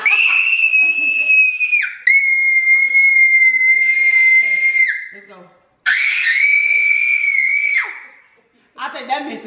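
A person screams loudly for a myth-testing stunt: three long, piercing, sustained screams of a few seconds each, separated by brief gaps, with a fourth starting at the end.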